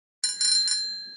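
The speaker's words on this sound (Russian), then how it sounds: "Велосипед." A bicycle bell rings out crisply, a quick double or triple trill that leaves a bright metallic tone ringing on.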